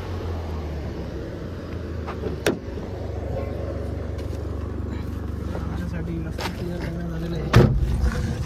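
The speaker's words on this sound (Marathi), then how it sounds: "खडक रस्ता आहे, पण आता पुढे खडी टाकलेली आहे, त्याच्यामुळे खडखड असा" A car rolling over a rocky gravel road near Dugarwadi waterfall in Nashik, with a steady low rumble broken by a couple of sharp jolts and people talking over the noise.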